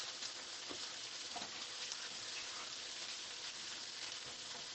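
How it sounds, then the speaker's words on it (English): Onions sizzling in a pan, a faint but continuous crackling hiss with scattered small pops, steady for several seconds without speech. "I'm going to put some onions in here. You hear it now."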